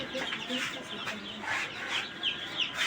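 Newly hatched silver desi chicks fresh from an incubator, giving soft, high peeping calls in short bursts close by, with some faint background noise and no talk.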